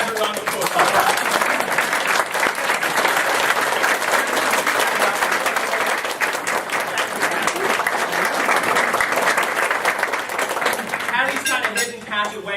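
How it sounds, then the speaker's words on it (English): A crowd at a farewell gathering for a priest gives sustained, dense applause that stays loud throughout before fading as voices emerge near the end. "let's give Pat a round of applause"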